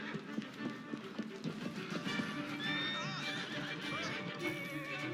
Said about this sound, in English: I'm getting headbutted by horses